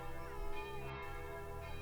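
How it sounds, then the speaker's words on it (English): Church bells ring in a Game of Thrones fan-made alternate ending, a sustained, resonant peal with layered overlapping tones and long ringing decay, moderately loud with no voices. "Now the bells ring, exclaimed Sansa."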